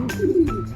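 A racing pigeon coos softly at close range, a short low throaty call with a slight rise, heard alone after arriving at the loft from a 388 km race out of Prieto Diaz, Sorsogon.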